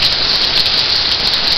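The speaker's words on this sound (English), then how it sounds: "Pouring rain." Heavy pouring rain during a rainy outdoor picnic, a steady dense hiss of drops drumming on surfaces, loud and close with no pauses or voices.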